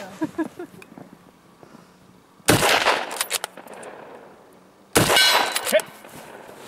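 Gunfire on a shooting competition stage, two loud bursts of rapid shots a couple of seconds apart, with quieter talk and ambient noise between them.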